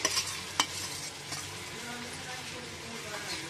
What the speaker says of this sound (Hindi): घी गर्म हो चुका है, अब इसमें हम कद्दूकस किया हुआ सेव को डालेंगे